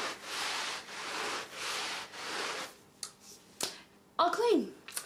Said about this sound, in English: little suds that I'll be wiping up here